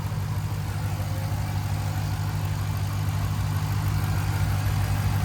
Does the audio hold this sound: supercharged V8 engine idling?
yes